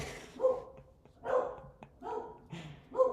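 A dog barks indoors, four separate short barks spaced about a second apart with slight whiny tails, moderately close but not very loud.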